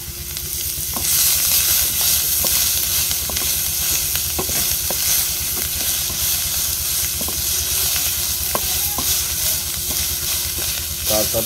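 Ginger garlic paste sizzling loudly in a hot pan for chicken cooking, a constant steamy hiss with a low rumble beneath and light scraping taps of a spoon stirring at irregular intervals.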